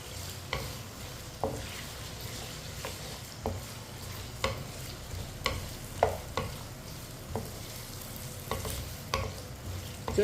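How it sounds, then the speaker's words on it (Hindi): Potato pieces for an aloo tori curry fry in a pan over a medium flame: a soft, steady sizzle broken by repeated scraping stirs at irregular intervals, with no talking. "आलूओं को 3-4 मिनट के लिए फ्राई कर लेंगे।"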